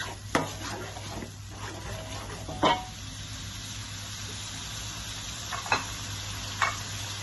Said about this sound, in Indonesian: Kita tumis bumbu ini sampai harum